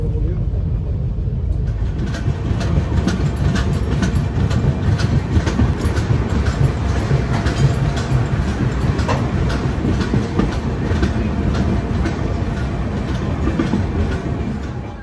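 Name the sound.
Howrah Barbil Jan Shatabdi Express train running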